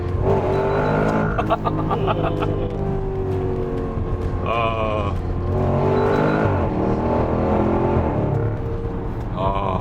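Supercharged 5000cc V8 of a Range Rover Sport SVR revving hard under manual shifts in S mode, loud and close with rising and falling engine tones, someone talking over it throughout.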